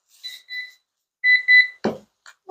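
Toy timer beeping with thin electronic tones in two short pairs, two quick beeps then a pause and two more, clear and close, followed by a brief soft clatter.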